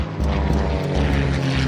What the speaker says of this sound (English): Furious dogfights break out all around